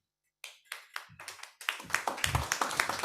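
An audience at a select board meeting breaks into applause, a few sparse claps swelling quickly into dense, steady clapping from many hands in a room.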